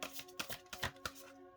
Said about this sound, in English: Shuffling for the other cards that came through.